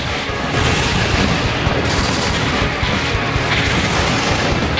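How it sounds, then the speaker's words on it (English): A hologram tower being destroyed in a Bakugan: Defenders of the Core video game, a dense, loud barrage of booming blasts and rapid shot-like bursts continuing throughout, no talk. "Gate destroyed your hologram tower!"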